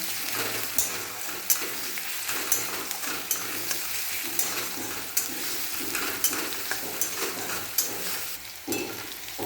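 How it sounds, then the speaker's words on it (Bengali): Onion and garlic sizzle and fry in a pan while a utensil stirs and scrapes at regular intervals, steady and fairly close. "ভালো করে মশলাটা পেঁয়াজ আর রসুনটাকে ভেজে নেব"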